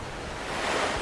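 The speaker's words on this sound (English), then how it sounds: "So we just let him go over the edge of the waterfall." Rushing water at a waterfall edge in the video game SOPA - Tale of the Stolen Potato, a steady broadband roar like surf that swells slightly louder toward the end, with no talk.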